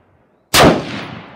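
A single rifle shot fired during a three-position shooting drill cracks sharply and loudly after a moment of near silence, then trails off into a decaying echo.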